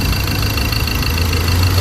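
A car engine idles steadily at close range, a continuous even hum and rumble with no voices.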